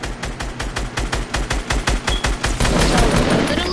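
Rapid, loud bursts of automatic gunfire in the Fortnite video game, a fast rhythmic volley of shots for several seconds that blurs into a dense continuous roar near the end.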